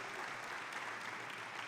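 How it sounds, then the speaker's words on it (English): Audience applause at a Wayne County business gathering honoring service members, a steady dense wash of clapping filling the short moment without pause. "Can we give them a big round of applause?"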